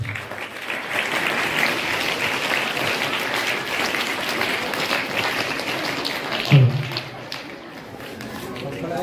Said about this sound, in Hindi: प्रधानाचार्य महोदय के लिए जोरदार तालियां।